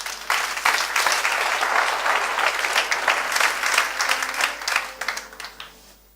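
A church congregation bursts into sustained applause during a Sunday service, dense clapping from many hands filling the room for several seconds before tapering off.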